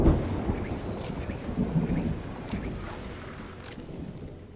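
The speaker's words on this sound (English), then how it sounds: "A storm is raging." A thunderstorm rages at sea in the video game Mind Over Magic, with deep rolling thunder, gusty wind and rain-like hiss that start loud and slowly fade, and no one speaking.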